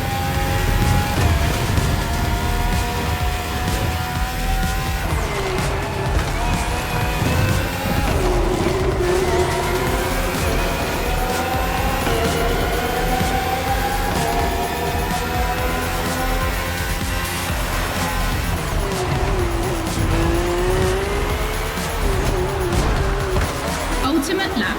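Red Bull RB13 to RB20 Formula 1 cars with Renault and Honda engines in The Crew Motorfest, high-revving engine whine sweeping up and down through shifts, continuous under a voice talking over it.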